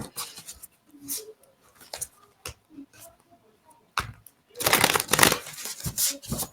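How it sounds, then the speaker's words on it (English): Tarot cards are shuffled by hand, giving soft scattered riffles and taps that build into a louder, denser flurry of card noise toward the end. "I think it's nicely shuffled"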